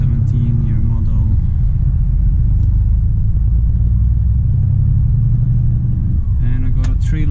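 A 2017 Volvo FM 440 horsepower truck engine rumbles loudly and steadily at close range, a deep droning tone that shifts slightly near the end.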